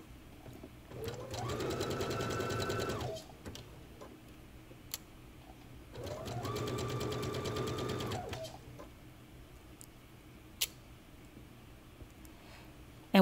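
A sewing machine stitches a seam on a smocked dress in two sustained runs of rapid mechanical whirring, separated by quiet pauses with a few faint clicks.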